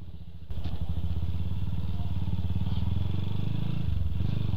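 Motorcycle with a loud aftermarket exhaust idling close by after a police stop, a deep rapid thudding exhaust pulse that kicks in abruptly and rumbles continuously, loud and near.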